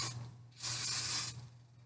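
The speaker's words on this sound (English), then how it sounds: "We'll spray our spoon." A short hissing burst of cooking spray from a can onto a spoon, about two-thirds of a second long, rises over a quiet room hum and then cuts off.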